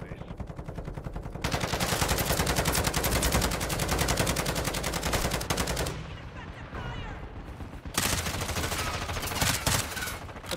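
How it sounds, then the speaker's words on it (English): A sentry gun in Call of Duty DMZ fires long, rapid automatic bursts, loud and close, with a short lull in the middle before the dense rattle resumes to the end. "My sentry gun."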